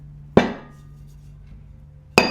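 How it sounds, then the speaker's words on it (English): A hammer strikes a stuck ceramic glaze pot twice, each a sharp, close knock that rings out briefly and decays, the two blows spaced well apart against a faint steady hum. "I just have to hit it with a hammer."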